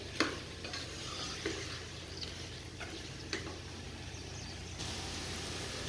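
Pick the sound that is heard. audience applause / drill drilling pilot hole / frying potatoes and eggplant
frying potatoes and eggplant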